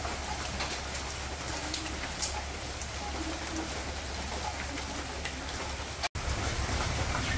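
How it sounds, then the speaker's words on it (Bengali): Heavy rain pours steadily over a village, a dense unbroken hiss of drops on surfaces with faint pigeon coos mixed in, and a brief dropout near the end. "বৃষ্টি তো জোরে নামলো একবারে"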